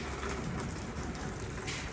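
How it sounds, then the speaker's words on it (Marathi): Heavy rain driven by wind makes an even, rushing wash of noise throughout, fairly faint and distant, with no voices. "खरंच खूप पाऊस आहे, वारं पण आहे पावसामध्ये"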